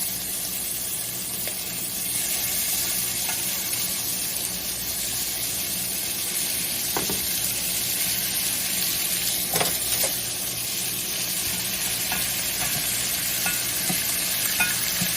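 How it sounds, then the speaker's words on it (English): Ribeye beef sears in a hot pan for pepper steak, a steady loud hiss and sizzle close up with occasional stirring scrapes and spits throughout, no voices. "we're just searing it a little bit"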